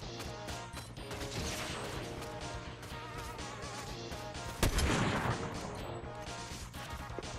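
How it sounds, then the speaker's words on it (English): Sniper gunshot in the Fortnite video game during a TMNT event match, a single sharp crack about two-thirds through, standing out briefly over a dense, busy mix of game music and effects. "Oh, someone shot. There's a sniper."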